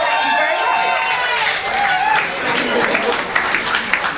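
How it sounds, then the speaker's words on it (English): An audience at a pro wrestling show bursts into sustained cheering and clapping, a thick, steady roar of many voices with scattered louder claps and shouts rising toward the end. "Give me a cheer!"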